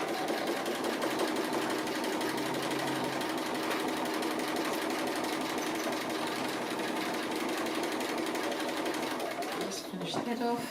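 Sewing machine stitching down an appliqué piece, a steady continuous mechanical whir with rapid needle chatter running throughout at close range, under a quiet voice talking, stopping near the end.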